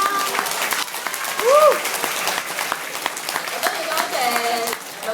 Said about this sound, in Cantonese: 大家俾啲掌聲支持思思啦！